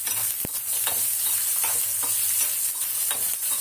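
Small sambar onions fry with a steady, close sizzle in a pan while a spoon scrapes and stirs them in repeated strokes, all without speech.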